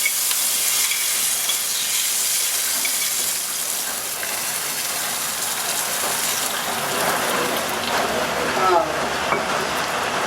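Mustard seeds and fresh curry leaves tempering in hot oil for prawn theeyal, a continuous crackling sizzle with small pops and spatters, moderately close and fairly steady throughout.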